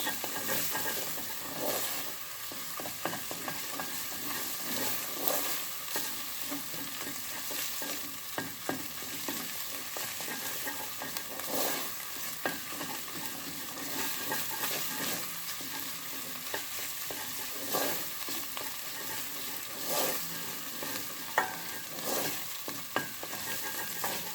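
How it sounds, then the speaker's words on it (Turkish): Food sautéed and stirred in a pan for broccoli soup, with a steady soft sizzle and scattered scraping strokes of a utensil throughout, moderately quiet and with no talk. "Salatamızın da kokusu gidene kadar şöyle bir kavuruyoruz"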